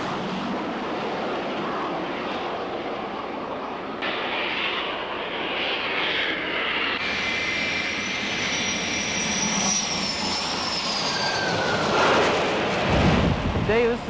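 An E-2C aircraft is catapulted off an aircraft carrier flight deck, a loud, sustained roar of engines with rising whine, swelling toward a heavy blast near the end.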